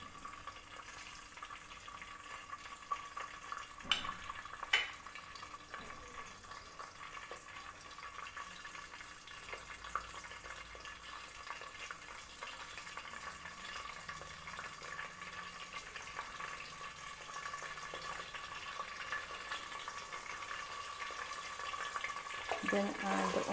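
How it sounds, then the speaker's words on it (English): Spices fry in hot oil in a pan for a home-style red chilli chicken, a continuous soft sizzle and crackle that stays even and close throughout, with a few sharper knocks early on and no voices heard. "once oil is hot, add the spices"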